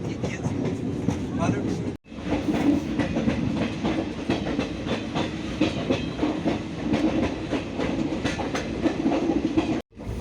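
A train from Sealdah to New Karimganj, Assam, rumbles through hills with continuous rhythmic clatter of wheels on the rails, close and steady, while people talk over the noise.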